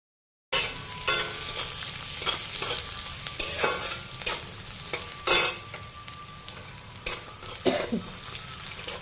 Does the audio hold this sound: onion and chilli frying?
yes